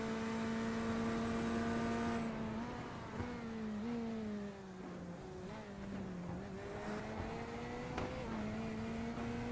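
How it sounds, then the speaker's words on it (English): A Corvette race car driven hard around a roval circuit, its engine note climbing and dropping through gear changes and corners, sustained and fairly close with no voices. "Let's see how hard Odell is really pushing this Corvette"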